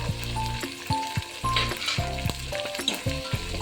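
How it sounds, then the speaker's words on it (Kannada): Sliced onions frying in hot oil in a pan, a steady close sizzle with the scrape and clink of a stirring spoon through it. "ಈರುಳ್ಳಿ ಚೆನ್ನಾಗಿ ಫ್ರೈ ಆಗಬೇಕು."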